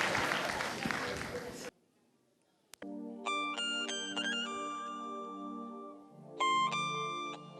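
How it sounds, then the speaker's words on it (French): Audience applause at a Faso Academy quarter-final talent show: a dense, loud burst of clapping that cuts off abruptly after under two seconds. A pause follows, then a bright electronic melody of stepped tones. "Applaudissements pour lui."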